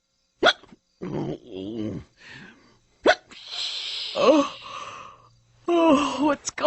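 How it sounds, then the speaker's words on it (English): Cartoon bear characters hiccup repeatedly, several sharp gulping hics loud and close, interspersed with brief voiced groans and reactions in a quiet room. "I just can't get rid of these hiccups."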